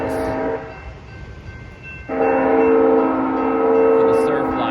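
A Surfliner passenger train rumbles past close by and sounds a long, loud horn that swells in midway and holds to the end.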